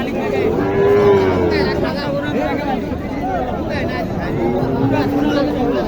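A Sahiwal heifer moos loudly and at length over the steady hubbub of a crowded cattle market in Naogaon, Bangladesh, with people talking all around.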